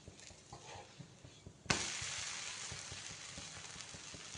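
Batter for a rava dosa sizzles on a hot pan after the flip, a sudden loud hiss bursting in partway through and then holding as a steady bright crackle, with faint quieter sizzle and clinks before it.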